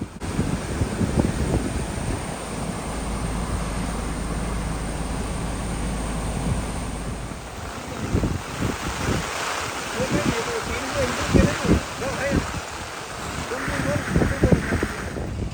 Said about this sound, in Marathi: प्रचंड पाण्याचे प्रवाह या भागातून वाहत असल्याचे भीतीदायक चित्र या भागात पाहायला मिळत आहे